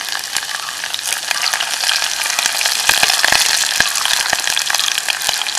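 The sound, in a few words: frying garlic and green chillies stirred in a pan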